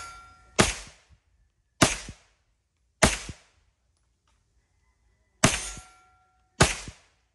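A CZ Scorpion Evo 3 pistol fires five single shots outdoors, each a sharp, loud crack with a short ringing tail, spaced about a second apart with one longer pause in the middle.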